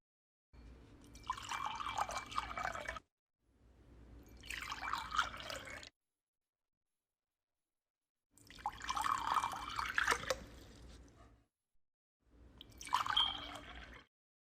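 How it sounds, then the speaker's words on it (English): Water is poured into a glass in four separate bursts with silent pauses between, each a close, splashing trickle that rises and fades. "First, you're going to want to pour yourself 2 cups of water into a glass."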